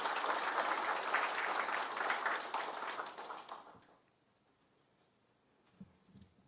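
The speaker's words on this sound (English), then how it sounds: "and applause for this program." An audience claps for a newly announced program at a formal ceremony. The applause is loud and dense for about three and a half seconds, then thins and fades into near silence with a few faint taps.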